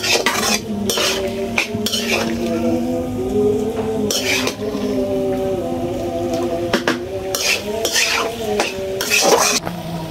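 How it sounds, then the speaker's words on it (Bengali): Macaroni fries in a pan over a clay stove while a metal spoon scrapes and clinks against it in repeated stirs, close and continuous over a low sizzle, with no talk. "ম্যাকারনিগুলো একটু ভাজতে হবে, কিছুক্ষণ ভাজতে হবে"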